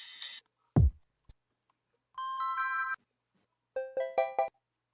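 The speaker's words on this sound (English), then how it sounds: "There's that kalimba." Bright plucked kalimba notes from a sound-effect library ring out in two short bursts of rapid tones, after an opening whoosh and a low thump, with silence between.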